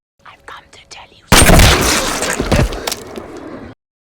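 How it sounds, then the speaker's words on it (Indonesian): A film gunshot fired into a zombie's head, a loud sudden blast after a few soft voiced sounds, followed by a crashing, rumbling decay that lasts about two seconds before cutting to silence. "Suara tembakan itu membuat para tamu keluar untuk melihat"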